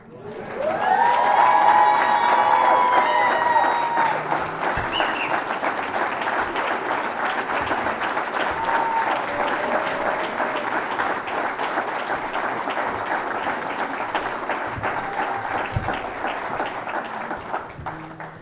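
Sustained applause from a large audience at a sports hall of fame induction ceremony, steady clapping with some cheering that holds at full volume for the whole stretch.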